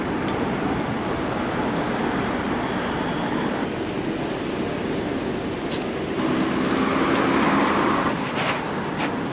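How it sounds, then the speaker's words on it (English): A Beijing subway train rumbles steadily, a loud continuous roar of wheels and motor that swells slightly toward the end. "The subway here is really reliable, with trains coming roughly every 4 to 7 minutes"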